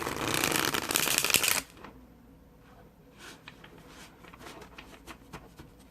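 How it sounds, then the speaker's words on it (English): Tarot cards from the Carnival at the End of the World deck being overhand shuffled, a loud, close flurry of rapid papery riffling for about a second and a half, then soft scattered card taps and slides. "With an overhand shuffle, you really want that glidey feel to it"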